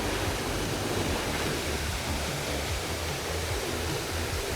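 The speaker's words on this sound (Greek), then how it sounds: "Είμαστε ακριβώς μπροστά από τον καταράκτη και βλέπουμε το νερό να πέφτει ορμητικά πάνω προς το κάτω" Waterfall at Edessa, Greece, with water rushing down in a loud, steady roar. It comes close and unbroken, a dense wash of noise with no voices.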